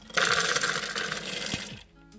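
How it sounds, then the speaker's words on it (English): Raw cashews, about 400 grams, pour into a food processor bowl as a dense, loud rattling cascade of nuts on plastic that runs for well over a second, then trails off to a few last settling clicks. "So here I have 400 grams, which we're going to dump into my food processor."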